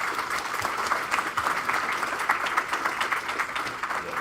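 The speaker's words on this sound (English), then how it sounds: "just one round of applause for the volunteers" Applause from the crowd at a game jam opening presentation, thanking volunteers: brisk, steady clapping from a room of people, close and fairly loud, with a few sharper claps standing out.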